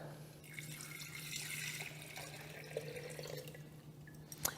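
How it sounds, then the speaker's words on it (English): Tap water streams steadily into a Cuisinart cordless electric kettle, a continuous close splashing fill over a low hum, with no talking. "I'm going to fill this up with 4 cups of water"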